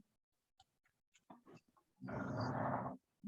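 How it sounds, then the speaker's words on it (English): A dog snores nearby: a few faint breaths, then a long, loud rumbling snore. "Ignore my dog snoring."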